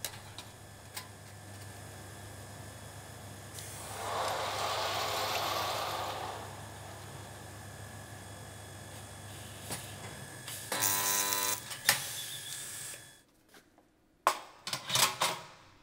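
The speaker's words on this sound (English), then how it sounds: "The blades can be clicked in very easily, and the weather-resistant louver is complete." Plastic louver blades snap into the frame of a Geiger WG-VZ-68 weather-resistant louver. A quick run of sharp clicks comes near the end, after a stretch of steady whirring and hum, with a few louder knocks following.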